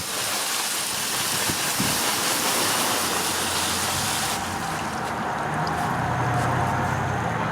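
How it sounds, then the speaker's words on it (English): Running water from a tap or hose washes over a freshly harvested, peeled loofah sponge, a steady broad rush of splashing throughout with a slight shift in tone partway as the sponge is moved under the stream. "I'll wash it off and you'll see it kind of looks a little frothy when you're washing it."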